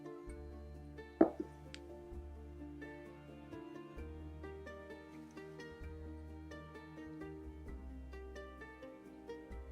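A small splash of water dripped into a glass of English single malt whisky, a single clear plop followed by a quieter drip, heard close up over steady background music.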